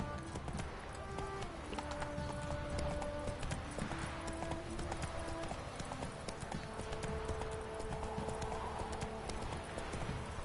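Roach, the horse in The Witcher game, gallops with fast rhythmic clip-clop hoofbeats under music and scattered game sounds, steady throughout.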